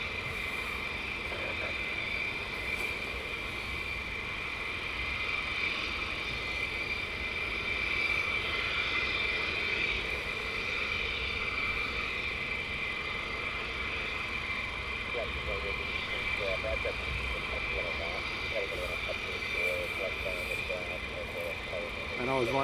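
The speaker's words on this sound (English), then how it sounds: "F15 and the C21 pairs takeoff." F15 and C21 jets taking off in pairs at night at RAF Lakenheath, a steady broad engine roar holding loud and continuous throughout, with people talking over it.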